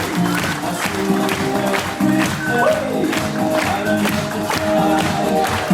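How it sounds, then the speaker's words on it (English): Cruise ship theatre audience keeps clapping after a passenger talent show, a dense, steady wash of hand claps mixed with crowd noise and music, loud and continuous. "So come on, keep those hands clapping."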